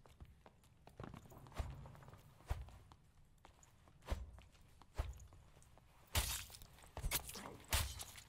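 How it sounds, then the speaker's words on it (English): Footsteps in the dark-fantasy dungeon video game Dark and Darker: a string of irregular thudding steps with sharp clacks, spaced about a second apart and growing louder and busier toward the end, over a quiet low background. "Heard his footsteps, boys. Heard his footsteps."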